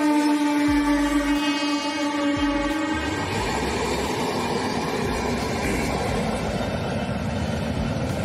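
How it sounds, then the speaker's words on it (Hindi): A train sounds a steady horn, then rumbles past with loud, continuous rolling noise that fills the rest of the clip. "ट्रेन आला"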